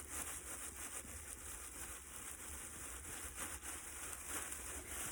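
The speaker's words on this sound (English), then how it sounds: "So you just keep turning and keep burnishing." A rock rubbing against the surface of clay pottery to burnish it, producing a quiet, continuous scratchy rubbing in steady back-and-forth strokes close by.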